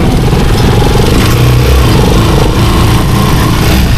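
A Rusi Chariot 175 motorcycle engine revs loud and close, a continuous rough buzzing drone that stays dense and steady throughout with no talking.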